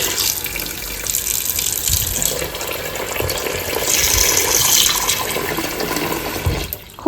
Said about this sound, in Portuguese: Agora eu vou cobrir com água. Água aqui da torneira mesmo.